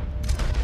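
One sharp shotgun blast in Red Dead Redemption 2, a quick loud boom with a short ringing tail.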